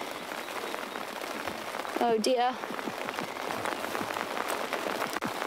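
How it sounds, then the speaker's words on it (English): Heavy rain pouring steadily onto the rain cover of a safari vehicle in the dark, a dense close patter throughout, with a brief exclamation partway through. "Oh, it's pouring."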